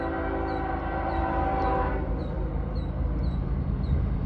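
A freight train rolls past at close range, a broad steady rumble of wheels and cars filling the clip, with a couple of faint horn-like tones early on.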